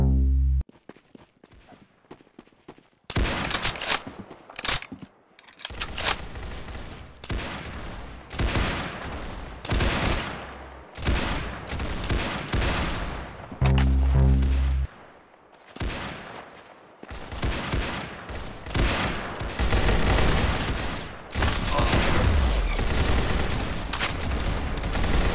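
Loud, rapid gunfire from a first-person shooter video game, with dense bursts and sustained volleys after a quiet opening, continuing for most of the stretch with brief gaps and no talking.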